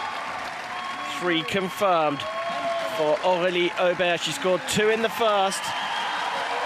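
A French crowd at the Paris 2024 Paralympic boccia gold medal match applauds and murmurs steadily in a large arena, the noise spread and distant beneath a commentator's continuous speech.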